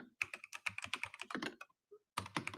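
Keys clatter on a computer keyboard in quick irregular bursts of typing, close and fairly quiet, with a brief pause before a final flurry.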